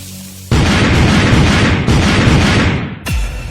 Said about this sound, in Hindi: अभी भी कुछ पटाखे बचे हुए हैं, मैं फिर से ट्राई करता हूँ।